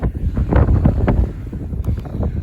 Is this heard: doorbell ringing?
no